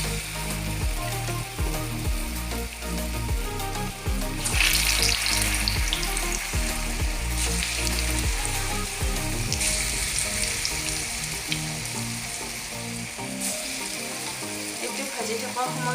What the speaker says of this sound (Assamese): সেইকাৰণে কম জুইত ভাজিব